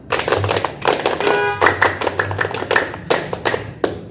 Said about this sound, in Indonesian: Tepuk pramuka 1 tambah 1.